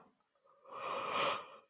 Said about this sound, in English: Where are all these yawns coming from?